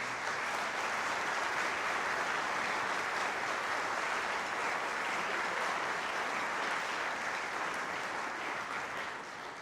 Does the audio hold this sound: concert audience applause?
yes